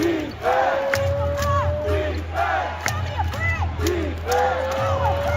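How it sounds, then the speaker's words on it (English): A basketball arena crowd roars and cheers in loud sustained waves, with whoops and shouts rising over a dense continuous din and a steady low hum underneath. "Listen to that crowd."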